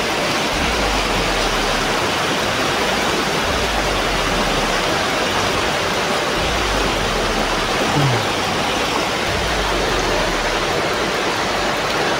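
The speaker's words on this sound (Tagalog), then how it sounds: "Lakas yung tubig." Strong water rushes in a steady, dense roar that stays loud and unbroken throughout, with low thumping pulses underneath at intervals.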